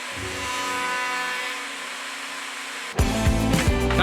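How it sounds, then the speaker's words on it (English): Wood router clamped upside down as a makeshift router table, trimming the ends of window trim: a loud steady high-pitched motor whine, then a sudden harsher cutting roar as the wood meets the bit. "I ended up clamping my router upside down and using the base plate as a router table"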